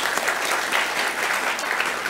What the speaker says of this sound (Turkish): çok güçlü bir alkış rica ediyoruz